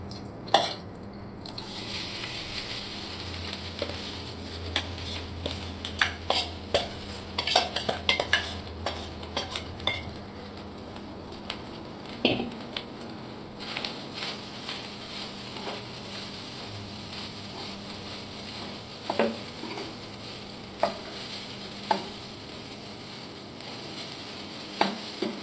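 Freshly ground grated coconut fries in a pan for rava laddu while a utensil stirs it, giving sporadic metallic clinks and scrapes over a faint background, with no talk.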